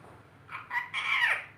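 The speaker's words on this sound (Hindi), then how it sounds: "मिठू तोते?" A green ring-necked parrot gives a harsh, rising squawk that swells into a loud, drawn-out screech close by, with no talking over it.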